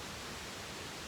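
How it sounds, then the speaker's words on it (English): Steady broadband rush of a waterfall in Costa Rican primary rainforest, continuous and even across the whole short stretch, fairly faint and distant with no other sounds rising above it. "I was just checking out a waterfall here. You can probably hear it on the background"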